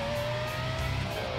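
A Porsche Carrera GT engine in the video game Need for Speed Most Wanted hums steadily with a sustained tone, revving slightly, continuous and fairly close, with no talking.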